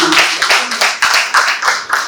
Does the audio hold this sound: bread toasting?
no